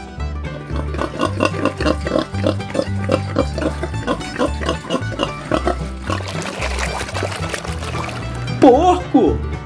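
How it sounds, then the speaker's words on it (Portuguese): A pig grunts and oinks repeatedly in a rhythmic series over music, the sounds loud and close, with a brief splashing, liquid-like passage near the end. "Porco."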